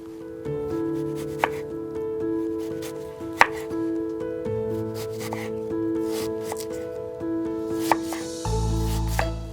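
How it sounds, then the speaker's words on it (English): Onions being chopped with a knife while preparing Somali Wakanda rice in a kitchen, a steady run of close knife strikes over background music with a louder thump near the end. "let me begin with chopping some onions"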